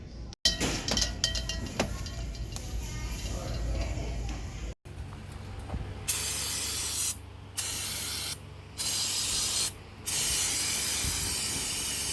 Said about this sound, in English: I got brake parts cleaner here with no pressure behind it at all